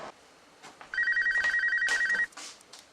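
A telephone rings close by in one long, loud electronic trill lasting just over a second, with a faint room murmur before and after.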